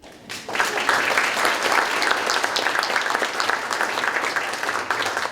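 At a civic dinner event in Hamilton, Ohio, the audience breaks into applause, a sudden swell of many hands clapping that holds strong and even for about five seconds.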